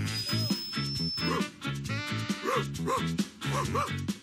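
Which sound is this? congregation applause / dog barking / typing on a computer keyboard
dog barking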